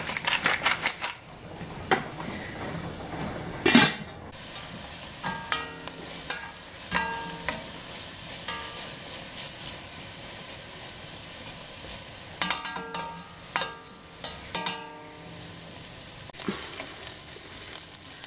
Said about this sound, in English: once you've sauteed your peppers and onions